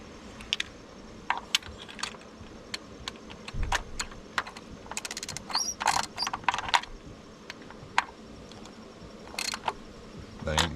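Ratchet snugging up bolts on a 2011 Honda CR-V during maintenance, heard as quick bursts of clicks scattered through a quiet garage, close and moderately loud, with no talking.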